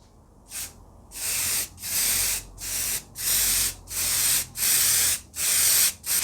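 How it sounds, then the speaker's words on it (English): An aerosol can of primer hisses in a series of about nine short bursts, each a second or less, close by with brief pauses between sprays, held about six inches from car parts. "and get with the spraying."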